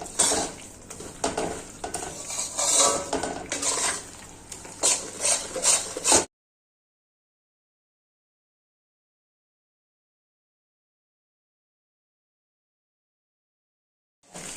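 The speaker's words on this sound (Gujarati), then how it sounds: "હવે લોટ એકદમ લાલાશ પડતો થઈ જાય અને પ્રોપર શેકાઈ જાય ત્યાં સુધી આપણે લોટને પ્રોપર રીતના શેકવાનો છે" Flour roasting in ghee in a pan for Gujarati adadiya pak made with jaggery, with a utensil scraping and stirring in busy bursts for about six seconds, then near silence until a brief return at the end.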